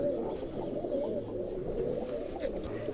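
Steady, overlapping pigeon cooing fills the clip, a low continuous murmur of several birds close by with no talking.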